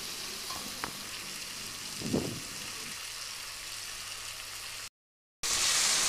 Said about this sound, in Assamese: আলুখিনিটো আমি সোৱাদ অনুসৰি নিমখ আৰু হালধি দি ভাজি লম